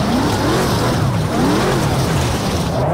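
A race car engine in Project Cars 2 held on steady throttle, a loud continuous drone with gently rising and falling pitch sweeps, close and dominant throughout.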